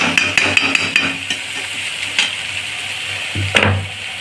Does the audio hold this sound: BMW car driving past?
no